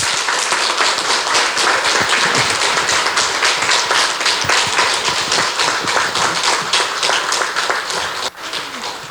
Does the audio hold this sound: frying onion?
no